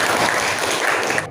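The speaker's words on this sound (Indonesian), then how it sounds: "tepuk tangan untuk Mbak Laura." A short burst of applause for a student speaker in a classroom, dense, even clapping from a group, heard alone without talk.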